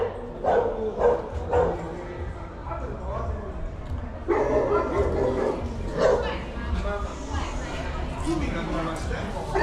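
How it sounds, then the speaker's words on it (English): Several dogs bark and yip on a street near St. Francis Xavier Church in Coloane, Macau, a scattering of short barks at moderate distance beneath a person talking and general street chatter. "So there's actually quite a few dogs right there."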